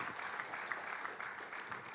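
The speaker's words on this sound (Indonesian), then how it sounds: "Mari berikan tepuk tangan." Congregation applauding during an online Sunday church service, a steady dense wash of hand claps at moderate level, continuous throughout with no talk over it.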